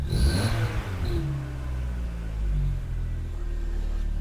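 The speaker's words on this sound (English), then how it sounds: "Makes a weird noise when you rev it." A VW Golf Cabrio engine with an exhaust needing repair revs up sharply, making a weird noise, its roar rising then settling into a low, steady rumble as it idles down.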